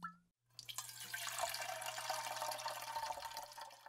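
Liquid pours steadily in a close, continuous splashing stream for several seconds, with a low hum beneath it and no speech.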